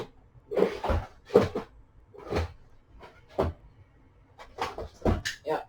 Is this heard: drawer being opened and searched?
yes